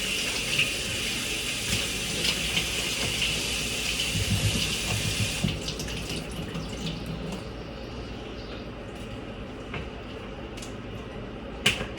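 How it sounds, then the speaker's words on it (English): Tap water runs steadily over raw pork chops in a sink for several seconds, then cuts off, leaving quieter drips and handling noises. "Then take this pork chop, wash them."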